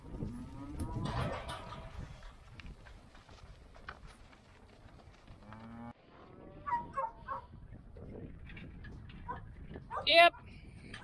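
A cow moos once near the start, followed by scattered shuffling, thumps and faint voices in an open outdoor space.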